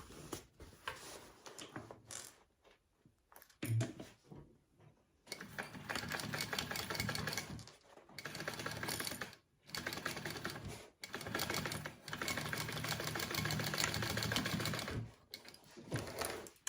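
Sewing machine stitching a second row on a bag, running in repeated stretches of steady rapid clatter separated by short pauses, close by and moderately quiet, with light handling sounds between runs.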